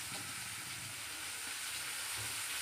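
Onion, tomato and curry leaves sautéing in oil in a pan for an elephant foot yam dish, giving a steady, soft, continuous sizzle throughout with no voices.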